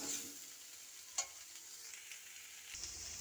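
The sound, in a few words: soybean chunks frying and being stirred in a pan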